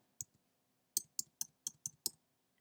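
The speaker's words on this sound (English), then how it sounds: "I'm just then hitting enter on my keyboard" Keyboard keys clicking at a desk, one crisp press followed by a quick run of six sharp, close clicks in a quiet room.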